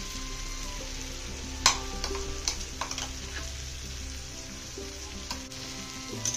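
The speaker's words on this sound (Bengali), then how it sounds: "কাঁচা লঙ্কা রসুন বাটাটা দিয়ে আবারও সুন্দর করে একটু ভাজা ভাজা করে নামিয়ে নেব" Green chili and garlic paste fries with softened onion in an oily pan while a dried fish chutney is made, giving a steady moderate sizzle with occasional clinks and scrapes of stirring.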